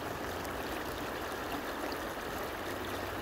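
Flowing stream water at a swimming spot, a steady broadband rush that holds constant and fairly close throughout, with no voices over it.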